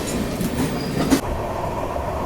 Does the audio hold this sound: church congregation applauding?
no